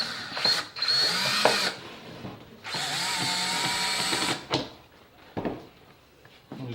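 A power drill drives screws into a wooden soap mold, with two long whirring bursts and short shorter spurts between pauses, close and fairly loud, ending in a few brief clicks and knocks.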